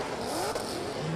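A V8-swapped Nissan S14 drift car screams at high revs during a drift championship qualifying run, loud and steady with a rising engine whine.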